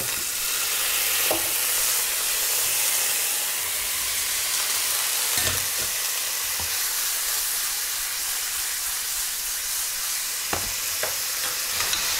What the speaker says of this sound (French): on fait revenir comme ça pendant 2 minutes